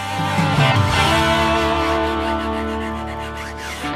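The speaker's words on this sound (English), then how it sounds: "Then we'll run it over to the spindle sander. Clean up our little curves, our volutes, and our heel." A spindle sander smoothing the curves, volute and heel of a wooden guitar neck: a loud, steady motor whine with a rough rubbing grind that swells briefly near the start, close up and with no voices.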